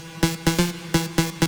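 A big-room rave style electronic track, loud pulsing synth chords hitting in a driving stop-start rhythm, about six punchy stabs in quick succession with no voices.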